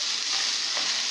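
Kebab meat sizzles and is stirred in a pot on a gas stovetop, a continuous close frying hiss with a soft scrape of stirring and no break.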